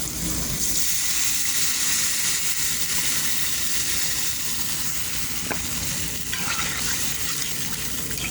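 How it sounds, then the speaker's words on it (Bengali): Taro and potato frying in a pan as water goes in, giving a loud, steady hiss and sizzle that fills the whole stretch with no talk over it. "এবার এতে জল দিয়ে দেবো"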